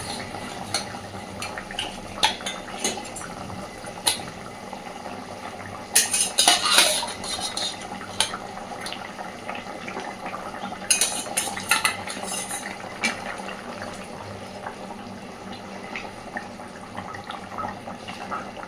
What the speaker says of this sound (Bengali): এইবার ভেজে রাখা সমস্ত মাছগুলো আমি এর মধ্যে দিয়ে দেব